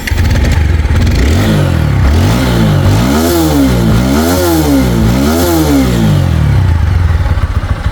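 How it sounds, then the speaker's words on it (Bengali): A TVS Apache 4V 160cc motorcycle engine runs loud and close, revving up and down in repeated swells over a steady idling rumble, with no voices. "তো বাইকটা স্টার্ট করে সাউন্ড কন্ডিশন দেখাবো"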